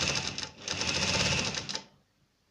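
A sewing machine stitches the hem of a salwar in a fast, loud, close whirring burst lasting nearly two seconds, briefly dipping midway, then stopping into near silence.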